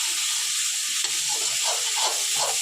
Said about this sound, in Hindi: चम्मच चला के रखना मैं थोड़ा